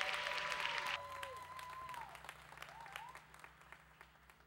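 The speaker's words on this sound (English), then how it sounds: "Give yourselves a big round of applause." Applause rises from a church congregation during a Vision Day service, with crowd clapping and cheering loudest early on, then continuing at a moderate level over a steady musical backing.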